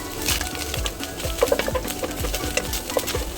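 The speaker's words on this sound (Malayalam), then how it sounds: "രണ്ട് ടേബിൾ സ്പൂൺ നെയ്യിലേക്ക് ഇഞ്ചി വെളുത്തുള്ളി പേസ്റ്റ് ചേർത്ത് കൊടുക്കാം" Ginger-garlic paste fries in two tablespoons of ghee in a pan, giving a crackly sizzle broken by repeated scraping stirs. Faint bird chirps are heard in the background.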